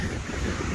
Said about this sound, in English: if you see the size of this swell and these waves coming in